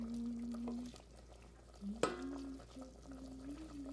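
Peppers stirred into tomato sauce for Tunisian fish couscous, a soft wet scraping and swishing in the pot with a low steady hum behind, one sharper knock midway.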